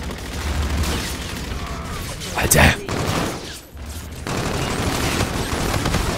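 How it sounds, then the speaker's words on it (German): Loud bursts of gunfire and a booming blast ring out amid steady game noise in Call of Duty: Infinite Warfare on PS4, with someone speaking briefly in German in between. "hier explodiert wirklich alles"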